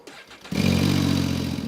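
A Moonbike electric snowmobile powers up with an abrupt start, settling into a steady, loud whirring drone with a low hum that holds without any talking.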